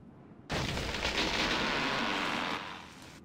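A grenade explodes in the video game Valkyria Chronicles, one abrupt, loud broadband blast that roars steadily for about two seconds before tapering off.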